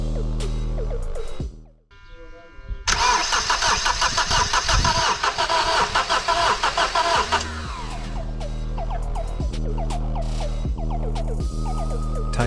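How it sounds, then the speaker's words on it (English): A common rail diesel engine cranks while air is being purged after injector replacement, stalls briefly, then catches with a loud clattering roar and settles into a steady, rhythmic idle close by. "And try to start the engine for a few seconds."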